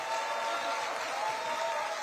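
Applause from a political party leadership meeting audience in Suwon, a steady wash of clapping, fairly faint and continuous, with no talk over it.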